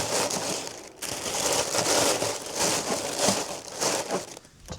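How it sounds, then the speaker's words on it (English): Tissue paper crinkles and rustles steadily up close while being handled to line a box for packing candles, with one brief pause. "we'll also be using a piece of tissue paper"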